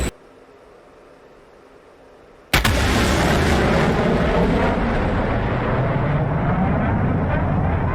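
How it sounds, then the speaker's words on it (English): Jet fighter engine roaring on full afterburner at supersonic speed during a dogfight in a flight combat game with a MiG-21 and Air Force One; a faint low hum gives way abruptly to a loud, sustained broadband roar that continues steadily. "I'm in burners, so we're going over Mach 1 on our way there"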